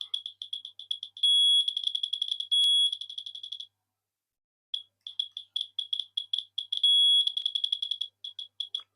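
A 1983 Casio Pachinko electronic handheld game beeps loudly with rapid trains of high electronic chirps and occasional sustained tones, pausing for about a second before the quick bleeps resume.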